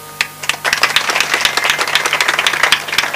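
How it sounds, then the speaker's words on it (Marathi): An audience at a Marathi kirtan claps together, a dense burst of close, lively handclaps starting abruptly and carrying on steadily to the end. "मी गुरुवर्य बापूदेव महाराजांसाठी टाळ्या वाजवायला सांगितल्या तुम्हाला"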